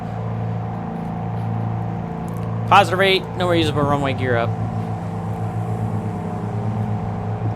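Piper PA44 Seminole twin engines in Microsoft Flight Simulator 2020 hum as a steady droning tone throughout, with a person speaking briefly over the top partway through.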